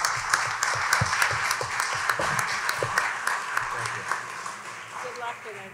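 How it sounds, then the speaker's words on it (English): Audience applause at a Pennsylvania congressional and state legislative district meeting in Erie. A crowd claps steadily and at moderate volume throughout, with distinct individual claps audible and a voice murmuring faintly underneath. "give them a round of applause for being with us"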